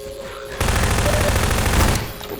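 Continuous rapid automatic gunfire in Half-Life 2, a loud dense burst of shots lasting over a second before cutting off, with no talking over it.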